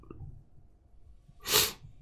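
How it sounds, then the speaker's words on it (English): A single sharp sneeze bursts out near the end, loud and close, after a short stretch of quiet breathing. "Sneezes."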